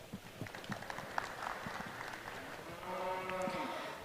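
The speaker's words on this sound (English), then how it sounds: "I'd like a round of applause for them" Scattered applause at a 4-H livestock showmanship ring, faint and thin clapping in a large space with cattle nearby, a low moo-like tone rising toward the end.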